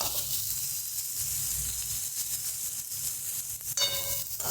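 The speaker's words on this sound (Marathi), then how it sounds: "कांद्याला परतून द्यायचा आहे नाही कच्चा कांदा राहतो" Onion sautés in a pan with a steady, soft hiss and sizzle throughout, faint and close, with a brief brighter crackle near the end and no talking.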